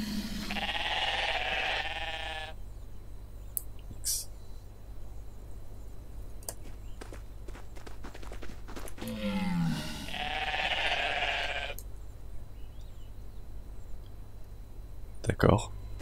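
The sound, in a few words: sheep bleating in the video game Everything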